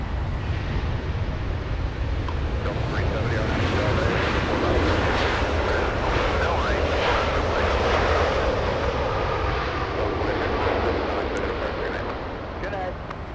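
A Boeing 777 airliner arriving at Los Angeles International Airport roars as a broad, steady rumble for over ten seconds, easing slightly near the end.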